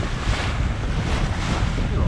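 Wind and waves rush steadily around a sailboat heeling under sail at sea, a loud continuous broadband roar with buffeting wind on the microphone and no clear voices.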